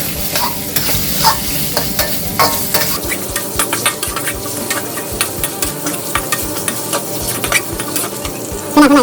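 Pork stir-fried in a hot pan for Thai pork curry with pea eggplant, a loud crackling sizzle broken by repeated rhythmic scrapes and clanks of a spatula against the pan.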